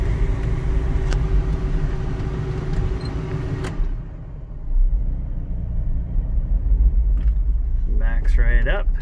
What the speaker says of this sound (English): Put her in drive here. Pull it onto the road.